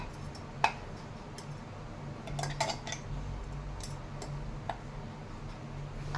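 Metal utensils clink and tap against a bowl while dry red chutney is transferred into it, a few sharp clicks scattered over a quiet room background.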